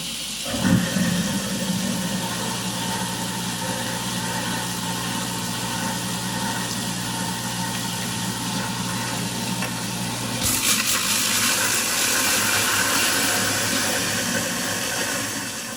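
An InSinkErator Badger garbage disposal runs with water flowing, giving a steady motor hum and hiss that persists for several seconds, then shifts to a brighter, louder rushing wash partway through.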